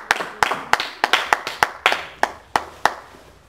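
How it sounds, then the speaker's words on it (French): A church congregation claps in a steady rhythm, about a dozen sharp, fairly close hand claps spaced roughly a third of a second apart, with no talk over them. "nous acclamons encore pour la gloire du Seigneur"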